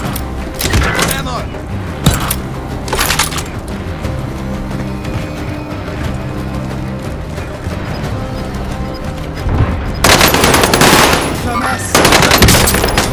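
Machine gun fire in the first-person shooter Call of Duty: Modern Warfare, with loud rapid bursts at the start and again near the end, over game sound effects and a brief spoken voice.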